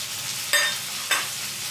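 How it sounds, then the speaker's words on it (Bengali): Boiled potato is stirred into onions frying in oil, a steady close sizzle broken by two sharp scraping stirs. "এবার আলুটা পেঁয়াজের সাথে ভালো করে মিশিয়ে নিচ্ছি।"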